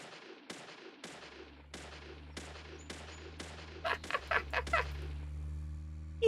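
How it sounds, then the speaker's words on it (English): Gunfire in the video game Deadly Premonition: a string of sharp, evenly spaced shots with decaying tails, followed by a denser rapid burst near the end over a low steady game hum. "Let's open fire."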